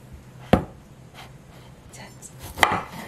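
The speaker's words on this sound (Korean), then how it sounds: "자, 이렇게 해서 채를 치겠습니다." A knife chops through zucchini on a cutting board while it is cut into matchsticks for hobak-jeon, giving two sharp, close thuds about two seconds apart with quiet handling sounds between them.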